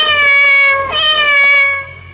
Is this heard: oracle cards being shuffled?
no